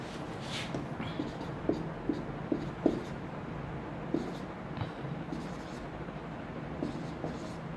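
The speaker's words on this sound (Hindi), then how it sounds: "बी पे आपको एक और स्पेलिंग मैं लिख देता हूँ।" A teacher writes a spelling on a classroom board during a basic English grammar lesson, producing a series of short, soft taps and scrapes of chalk or marker at an irregular pace.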